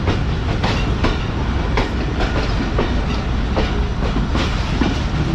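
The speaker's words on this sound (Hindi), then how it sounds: "हमारी ट्रेन अब इसी लाइन पर डाइवर्ट होगी" The Mohen Jo Daro passenger train runs on rails in Sindh, with a loud steady rumble and repeated clickety-clack beats of wheels on rail joints throughout, close and without voices.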